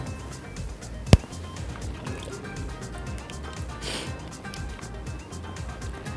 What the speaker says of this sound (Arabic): هزود شويه ميه كمان، طبعا الميه مغليه مع المرق